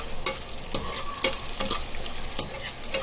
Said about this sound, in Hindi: गोंद हो गया फ्राई करके।